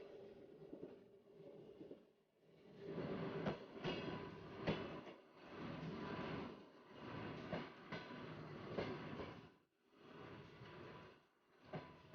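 A train runs along the rails of the Trans-Siberian line with a steady rumbling roll and rhythmic clatter, swelling and fading in waves, heard from inside at moderate level with no voices.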